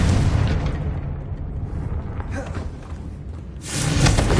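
A Confringo explosive spell bursts in Hogwarts Legacy with a loud rumbling blast that fades into a low roar before a second surge at the end, while a voice speaks over it.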